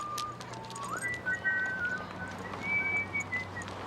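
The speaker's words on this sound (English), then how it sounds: "And why is she whistling?" A person whistles a wandering tune, the thin tone sliding up and holding in short phrases, over a low steady hum with faint background noise.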